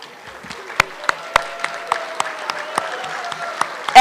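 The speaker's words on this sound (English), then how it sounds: "If you have earned honor roll, please stand up so that we can clap for you." A school recognition-ceremony audience applauds eighth-grade honor roll students, with sparse, distinct claps ringing out at irregular intervals over a faint room murmur, fairly thin rather than a full ovation.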